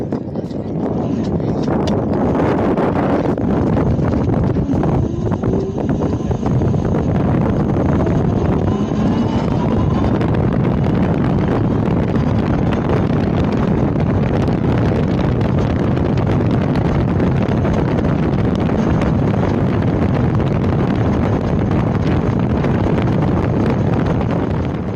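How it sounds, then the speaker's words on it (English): Loud, constant wind roars and buffets the microphone throughout, a dense rumbling rush with no letup and no voices, recorded while riding a Dualtron Thunder 2 electric scooter. "This place is so windy"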